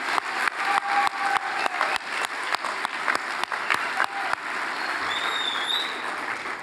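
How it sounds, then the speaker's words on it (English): Graduation ceremony audience applause at a high school equivalency commencement, sustained clapping with sharp individual claps standing out, continuing steadily through the clip with a faint tone near the end. "A round of applause for them."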